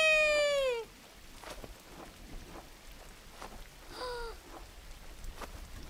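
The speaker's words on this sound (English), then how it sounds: "How the sound of the rain dampens when you enter the water" Steady rain falls in the video game Gris, a soft continuous patter that sounds muffled and dampened, with a bright tonal chime fading out at the start and another brief chime partway through.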